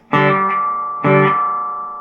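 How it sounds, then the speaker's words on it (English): Two loud electric guitar chords on a Sound City 30 MK6 1x12 amp's clean channel ring out one after the other, each left to hang and decay slowly with a lingering, washy amp reverb tail. "now listen to the reverb."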